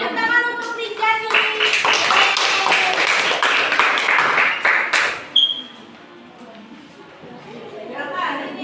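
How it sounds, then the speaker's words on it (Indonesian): A classroom of students breaks into a burst of applause for a presenting group, loud and close, mixed with children's voices and chatter before the room settles into quieter murmuring. "Beri tepuk tangan untuk Rinjani."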